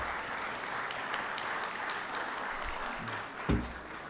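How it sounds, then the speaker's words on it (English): Applause fills the Georgia Senate chamber, a dense steady patter of many hands clapping close by for several seconds, with a brief thump near the end. "Let's give her another round of applause here"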